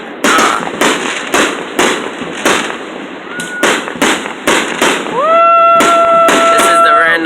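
Independence Day fireworks bursting in a quick series of loud sharp cracks and pops, close and evenly spaced, followed by whistling rising tones, with people talking nearby.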